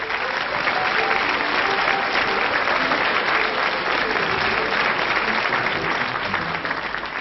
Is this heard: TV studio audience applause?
yes